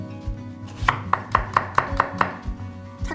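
Knife slicing radish lengthwise into wide strips for Gyeonggi-style napa cabbage kimchi, a run of about seven crisp, evenly spaced chops on a cutting board, close and clear with no talking.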